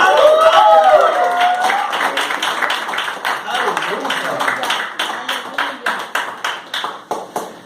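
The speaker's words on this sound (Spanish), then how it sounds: "Denle un aplauso a Cristo" Applause for Christ from a church congregation, opening with mixed cheering and voices, then settling into distinct, increasingly spaced claps that fade toward the end, with some voices heard underneath.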